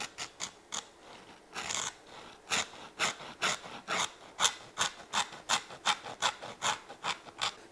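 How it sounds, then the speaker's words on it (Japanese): A serrated gari tool with a bent tip rasps back and forth along a cut in leather, scraping it wider in a steady series of about twenty short, close, dry strokes. "これを使って今切った切れ目を削りながら広げていきます。"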